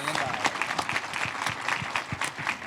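A short burst of crowd applause at a Ball Toyota dealership event announcing a $500,000 donation to schools and universities: brisk, distinct claps under a steady clapping wash.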